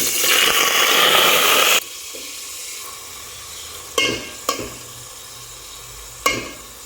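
Onions dropped into hot oil, a loud burst of sizzling that cuts off abruptly, followed by quieter frying and a few sharp stirring scrapes, close with no talking.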